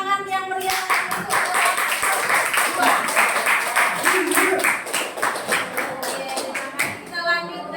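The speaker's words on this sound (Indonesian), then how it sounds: "Maka kita kasih tepuk tangan yang meriah untuk" A classroom of students claps for a student group, brisk uneven hand claps close by for several seconds, with voices heard briefly at the start and end.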